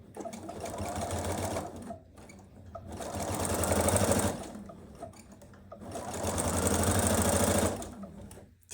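A sewing machine runs in three long, steady whirring stretches of about two seconds each, separated by brief pauses, close and fairly loud in a quiet room.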